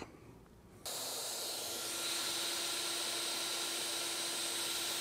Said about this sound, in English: I am driving the shaper, but the machine makes micro adjustments to the router bit to keep it perfectly aligned with the program